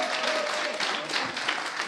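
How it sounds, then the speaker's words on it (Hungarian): Brief burst of audience applause at a European conference in Budapest, dense steady clapping from a crowd, loud and close throughout. "Neki jár a taps."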